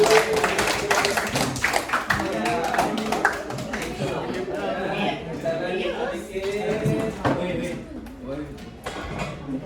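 Audience applause at an Indonesian gathering, scattered claps and taps spread across the room at moderate loudness, mixed with voices talking.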